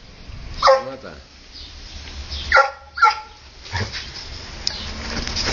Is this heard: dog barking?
yes